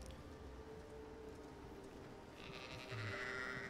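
Sheep bleating in the Hogwarts Legacy video game: a faint, short bleat rises near the end over a quiet game ambience.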